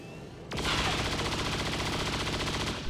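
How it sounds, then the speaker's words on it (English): Sustained automatic gunfire from the XCOM 2 War of the Chosen video game, a soldier laying down fire on an alien Lancer, erupts loudly after a half-second lull and rattles on continuously to the end, with no talk. "while we actually move forward with QT to lay down fire against the Lancer."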